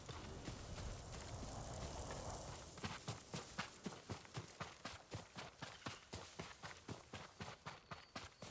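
A horse walks with steady, evenly spaced clip-clopping hooves, starting after about three seconds of rushing wind-like noise and continuing as a clear, close rhythm to the end.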